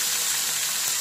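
Mixed vegetables, including pumpkin, bitter gourd and potato, fry in hot oil with a steady, close sizzle that holds evenly through one short burst, with no talk.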